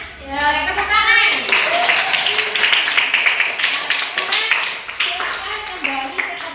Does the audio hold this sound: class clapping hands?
yes